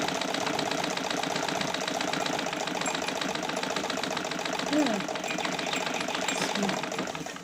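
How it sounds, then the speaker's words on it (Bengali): An oiled sewing machine runs steadily and smoothly in a continuous rapid mechanical whir with fine rhythmic clatter, loud and close throughout, while a person talks over it. "এক বছর যাবত সেলাই করি না, এখনো পর্যন্ত আমার মেশিন আলহামদুলিল্লাহ স্মুথ আছে"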